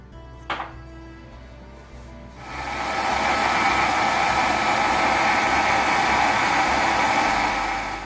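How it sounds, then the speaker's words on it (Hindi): After a short quiet stretch and a small knock, an electric blender roars on with a steady, loud whirring hum, grinding peas with milk into a fine paste for a pea kheer. "ये मटरों में डाल के दोबारा इन्हें ब्लेंड करेंगे ताकि फाइन पेस्ट बन जाए"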